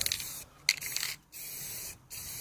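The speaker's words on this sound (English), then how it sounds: "just make sure the paint covers the whole part that you're spraying" Close bursts of spray from a spray paint can painting a BMX bike part, hissing in three long sprays separated by brief pauses.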